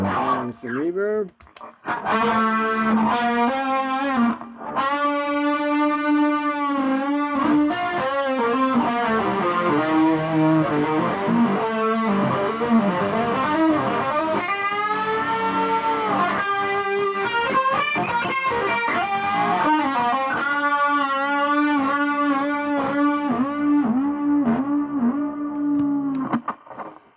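Electric guitar through a Peavey Classic Chorus 212 amp with chorus and reverb engaged, a long loud stretch of strummed and picked chords and sustained notes with no talking.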